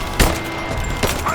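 Gunfire in the Rise of the Tomb Raider game rings out as two sharp shots about a second apart over steady loud battle ambience.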